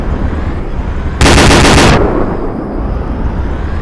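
A single loud burst of automatic gunfire from a BTR-70 or BRDM-2 armored vehicle in Arma 2, close and harsh, lasting under a second against quiet background noise.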